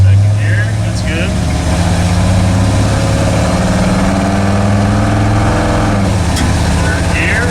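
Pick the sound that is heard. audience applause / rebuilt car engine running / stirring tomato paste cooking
rebuilt car engine running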